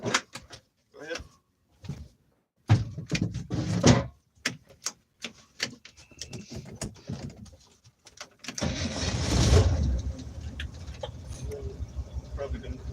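A vehicle engine turns over and catches near the end, rising into a steady running rumble after a stretch of people talking, with door and cabin clatter.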